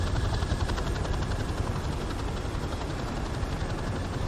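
Dense, continuous roar of helicopter rotors and engine in the Call of Duty 4 Remastered campaign, with gunfire folded into the rumble; loud and steady with no clear separate shots and no talking.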